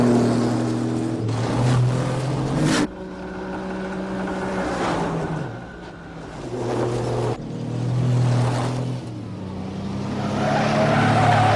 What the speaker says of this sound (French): Stevie va faire hurler le moteur et crisser les pneus